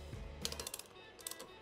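Wrench ratcheting as the rear sprocket bolts on a Harley-Davidson wheel are snugged up by hand: two short bursts of quick, light metallic clicks, close and fairly quiet over a low background hum.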